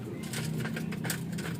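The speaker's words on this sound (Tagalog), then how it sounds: "Ayun yung ibon." Pigeons or doves at a racing-pigeon loft in Sariaya, Quezon, with a low, steady cooing running through the moment at moderate volume and no voices over it.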